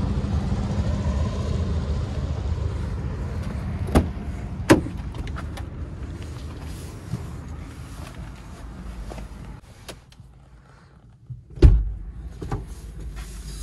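Getting into a Land Rover Discovery: a low interior hum with several sharp door thunks and clicks, a quieter stretch, then one heavy door slam near the end.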